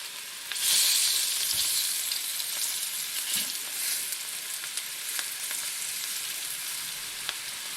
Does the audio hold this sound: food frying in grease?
yes